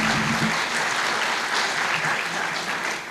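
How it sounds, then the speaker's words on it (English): Audience at a university gathering applauding a staff member, a steady roar of many clapping hands held loud throughout, with a brief voice at the start. "I want you to get some applause."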